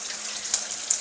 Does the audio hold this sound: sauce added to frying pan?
yes